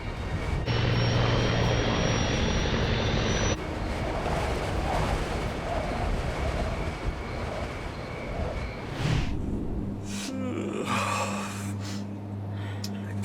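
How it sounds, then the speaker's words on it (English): An airliner on approach for landing at Buffalo's airport, heard as a loud, steady engine drone with a high whine that eases and shifts in the last few seconds. "Clarence Center is on the approach path for aircraft landing at Buffalo's airport."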